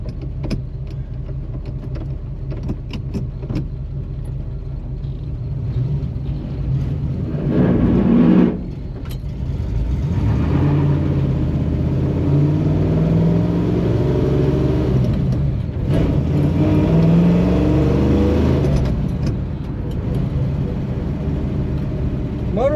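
A Chevrolet Nova with a manual clutch and tires rubbing on its first drive gives a continuous engine drone with road noise. It has a few swells as it revs and picks up speed.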